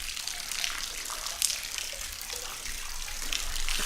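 Waterfall pouring down in a forested gorge on a hike near the Indian Staircase in Red River Gorge, a steady broad rushing wash of falling water that holds without a break, fairly close and alone.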